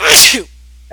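A single loud, close sneeze bursts out, then fades into near silence.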